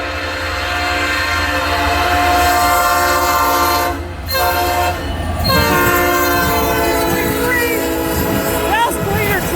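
A Loram rail ballast cleaner maintenance train rumbles past close by, with a steady heavy engine drone, a horn blast and rattling cars.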